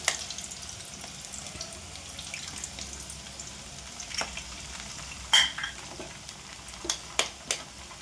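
Eggs fry in a pan for egg maggi, giving a faint, steady hiss broken by a few sharp clicks and taps of a utensil near the end, with no voices.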